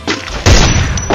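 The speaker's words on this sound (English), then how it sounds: "5 shots in a row, no shot miss" A few loud, punchy gunshot bursts in the Free Fire mobile shooter game, sharp booming impacts close together over about a second, with no talking.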